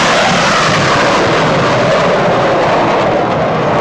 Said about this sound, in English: Blue Angels sneak past almost breaks sound barrier at Jones Beach